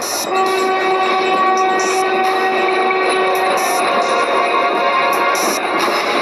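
A train arriving at a railway station rumbles loudly and continuously nearby, with a sustained horn tone carrying through much of the passage and rhythmic clanks from the wagons.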